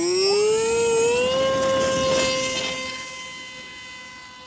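A small aircraft's engine roars loud and close as it takes off from a new grass runway, its steady tonal drone rising slightly in pitch, then fading as the plane pulls away.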